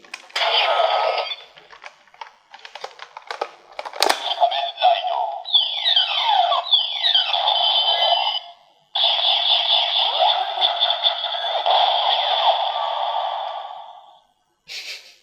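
Kamen Rider Decade DX Diendriver toy playing its electronic transformation effect: a click, then a long stretch of buzzy synthesized tones with sweeping chirps, cutting out briefly and resuming before a final click.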